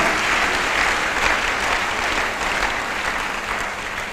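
A church congregation applauds during a French-language sermon, with steady, dense clapping from many hands that stays loud and even throughout.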